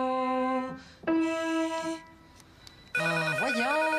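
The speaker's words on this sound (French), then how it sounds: "puis le téléphone qui arrête pas de sonner." A telephone in a home keeps ringing with loud, steady electronic tones that come in three separate bursts.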